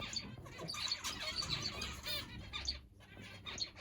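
Zebra finches and other finches in an indoor bird room keep up busy, overlapping high chirps and tweets, with brief soft wing flutters, all close and continuous.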